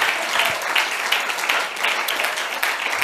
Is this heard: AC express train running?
no